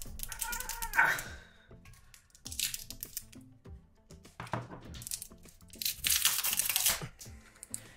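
The battery of a Samsung Galaxy S24 is pried out of its adhesive during a teardown, giving a series of strained crackles, creaks and peeling crunches. Loud bursts come near the start and again toward the end.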